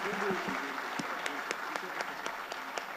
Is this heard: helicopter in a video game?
no